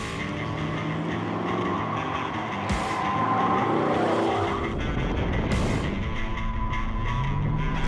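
A race car circles the Mid-Ohio track, its engine droning loud and steady with gear-change surges and a couple of sharp whooshes, heard from inside the car.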